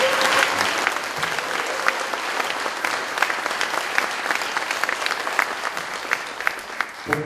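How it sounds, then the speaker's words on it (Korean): Full, steady applause from a talk audience honouring Professor Lee Sang-hee, a lively wash of many hands clapping for about seven seconds, easing slightly near the end. "우리 이상희 교수님께 큰 박수 한번 주세요"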